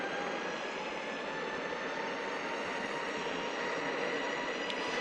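A VEYMAX NYMPH electric skateboard in speed mode 4 runs at full throttle, giving a steady, close broadband whir and rush of wheels and wind with a faint high motor whine and no talk.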